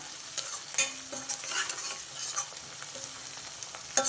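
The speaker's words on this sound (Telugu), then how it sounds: "ఈ ఉల్లిపాయలు ఇంకొంచెం వేగనిద్దాం ఉల్లిపాయలు కొంచెం కలర్ మారాయి" Onions fry in a pan with curry leaves while being stirred, a constant close sizzle punctuated by a few sharp utensil scrapes and clicks, with no voices.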